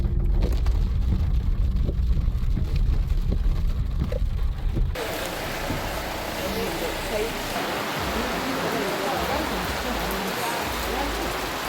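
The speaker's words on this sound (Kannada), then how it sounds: "ಜೋರು ಮಳೆ ಇದೆ" Heavy rain falls at Triyuginarayan temple, a steady dense hiss that grows broader and louder partway through, with no talk over it.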